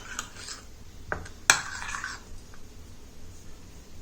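A spoon scrapes and clinks against a bowl while stirring a natural hair dye mixture with black cumin, a few sharp metallic taps and a short scraping stir in a quiet room.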